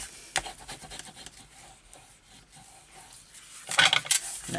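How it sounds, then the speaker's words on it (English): Paper being burnished down by hand while assembling a flip-style mini album, a soft steady rubbing and scraping close by, growing louder in a brief burst of firm strokes near the end. "And then give that a good burnish down."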